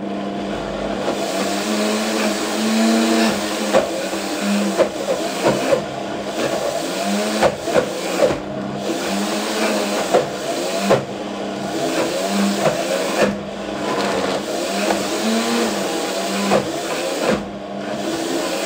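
A food processor or blender whirs steadily while mixing sun-dried tomato and herb hummus, a loud, continuous motor hum with faint rhythmic pulses from the thick paste turning over.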